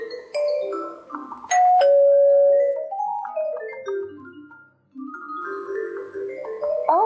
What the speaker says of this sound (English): said Ma as the doorbell rang